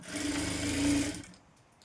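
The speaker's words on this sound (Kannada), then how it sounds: "ಈ ರೀತಿ ಮಡ್ಚ್ಕೊಂಡು ಸ್ಟಿಚ್ ಮಾಡ್ಕೋಬೇಕು" A sewing machine runs steadily while stitching a designer princess-cut boat-neck blouse, a close, even motor hum that stops abruptly near the end and leaves quiet.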